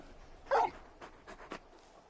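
Torgal, a very large dog in a video game, lets out a loud, short whimpering whine, followed by a few fainter whines and yips.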